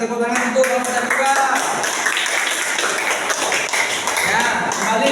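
Classroom applause for the second student group: a steady wash of clapping hands sustained over several seconds, with voices mixed in.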